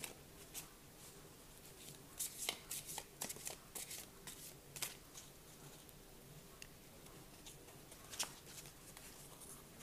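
Oracle cards being shuffled by hand, giving soft papery riffles and flicks in scattered bursts, fairly close and quiet, with no talking.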